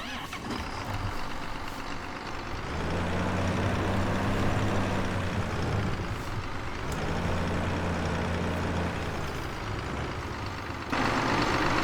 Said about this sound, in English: it's quite overwhelming actually, the volume of that tractor.